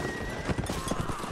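A horse in the Napoleonic Wars video game clops and whinnies close by in a brief, busy burst of hoofbeats.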